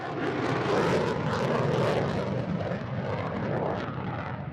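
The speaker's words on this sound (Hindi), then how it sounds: "हर तरह की मिसाइलों से लैस ये जंगी जेट 910 किलो के बम भी लेकर उड़ान भरता है।" A stealth fighter jet armed with missiles and bombs roars overhead, a loud sustained broadband engine rush that swells and fades slightly, with no talking.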